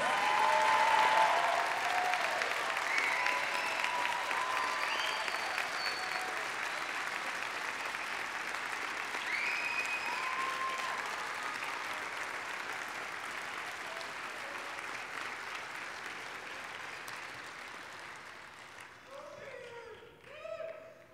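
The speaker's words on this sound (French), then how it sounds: "Applaudissons chaleureusement les nouveaux diplômés des baccalauréats de la Faculté des sciences" Audience at a 2018 Faculty of Science graduation ceremony gives new bachelor's graduates a long, sustained round of applause, steady and crowd-wide, with faint voices over it and the clapping fading near the end.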